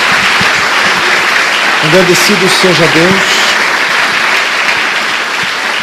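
Congregation applause fills a church service, a steady broadband wash of clapping that runs throughout while someone speaks briefly over it in the middle.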